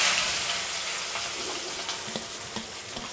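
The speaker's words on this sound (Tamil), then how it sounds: "இப்போ வெங்காயம் பச்சை மிளகா போட்டுடலாம்" Onions and green chillies hit hot oil with whole spices such as nutmeg, cinnamon and cardamom, a loud continuous close sizzle broken by the clack and scrape of a spoon stirring.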